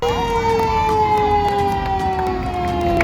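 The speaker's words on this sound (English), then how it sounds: "Fire engine trucks." A fire engine siren at a parade, a steady wailing tone drifting slowly downward in pitch over a busy outdoor background.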